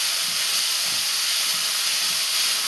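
Mint leaves frying in a generous amount of hot oil for chutney, giving a steady, close hissing sizzle that holds evenly throughout with no voices.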